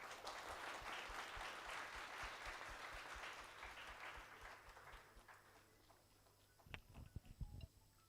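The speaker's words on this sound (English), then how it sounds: "Please give a huge round of applause" An audience at an international conference claps steadily in a hall for a dignitary's felicitation, the applause tapering off after about six seconds into a few knocks and shuffling sounds.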